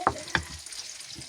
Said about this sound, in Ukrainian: Поки смажаться наші з вами пальчики в паніровці